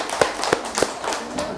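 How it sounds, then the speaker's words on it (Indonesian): Brief bursts of group clapping sound in a classroom setting, several sharp claps in quick succession followed by a scattered fade, moderately quiet. "Oke, beri tepuk tangan untuk kita semua."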